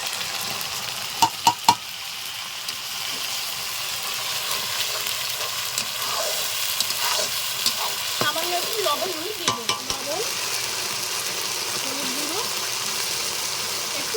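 A spice paste of cumin, coriander and dried chilli, mixed with ginger-garlic paste, fries in oil under a quiet steady sizzle, broken by scraping stirs and a few sharp knocks of the spoon.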